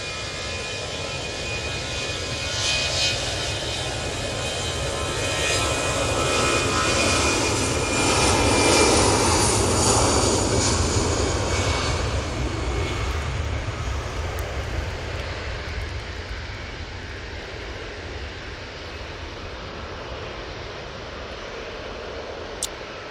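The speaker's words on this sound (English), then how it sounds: "Ryanair on the roll." Ryanair jet airliner rolling down the runway for takeoff at Manchester Airport, a broad engine roar that swells to a peak midway and then slowly fades into the distance.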